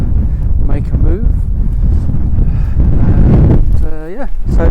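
Strong wind gusting hard into the microphone on an exposed summer wild camp at Bleaklow Stones in the Peak District, a loud continuous low roar with surging buffets throughout, and a voice talking faintly beneath it.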